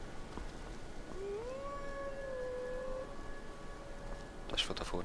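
A single wavering wolf howl in Skyrim rises and then holds a long tone over steady wilderness ambience, moderately distant, with a sharp sound near the end.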